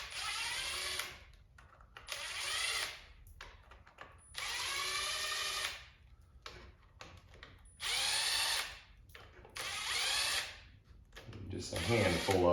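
A power tool spins out T30 Torx bolts from the front faceplate of an LS engine oil pump in several separate whirring bursts of a second or two each, close and loud, with a voice briefly at the end.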